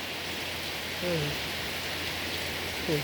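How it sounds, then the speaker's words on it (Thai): Steady rain falls in Phen district, Udon Thani, a soft, even hiss of drops on surfaces heard from nearby, with no break, and a faint voice slips in briefly twice under it. "ได้ยินเสียงฝนบ่ค่ะ"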